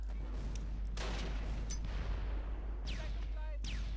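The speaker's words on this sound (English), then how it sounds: "Okay, the grenades are going off." Grenade blasts in the video game Close Combat Last Stand Arnhem: several sharp booms spaced apart over a steady low background rumble, moderately loud.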